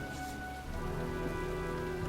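Steady rain in the video game Heavy Rain, a constant even downpour hiss that thickens slightly after the first moment, with no voices.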